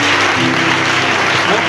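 A church congregation breaks into loud, dense clapping that fills the space steadily throughout, with voices faintly mixed in beneath the applause.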